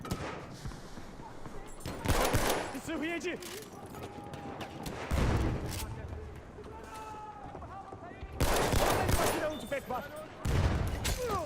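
Bursts of machine gun fire from a gunner in the video game Battlefield 1 come in several loud, dense volleys with pauses between them, mixed with other battle noise under a talking player.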